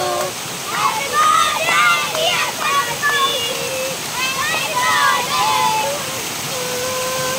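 Aadai waterfall in Navi Mumbai pours as a steady broadband rush beneath several people talking and laughing nearby throughout.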